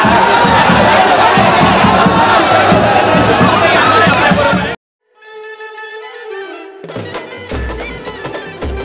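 A packed crowd inside a hall in Worli, Mumbai, roars and chants during a political gathering, a dense and loud wall of cheering that cuts off abruptly after about five seconds, followed by music.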